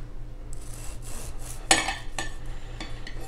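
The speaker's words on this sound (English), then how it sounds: "We're gonna give it a little cut here." A knife slicing through a hot chocolate chip banana bread in a kitchen, a soft rasping scrape with one sharper knock as the blade meets the board, close and fairly quiet.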